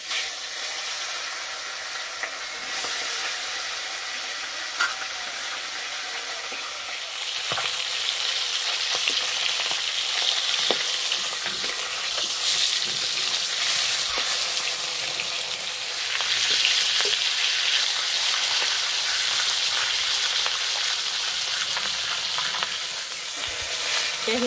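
Silver carp fish heads fry in oil with turmeric, giving a loud, continuous sizzle and crackle that swells in intensity partway through, with occasional stirring.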